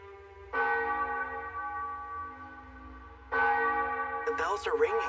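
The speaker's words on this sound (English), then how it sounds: "The bells are ringing." Church bells ring out in two loud, sustained peals with long harmonic tails, the second strike landing a few seconds after the first, followed by a brief burst of other noise at the end.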